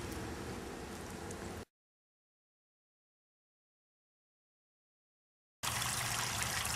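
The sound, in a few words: running water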